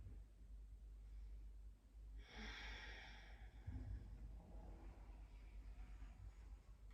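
A single soft, breathy exhale during a gentle yoga session for the lower back, faint and close against a quiet room hush.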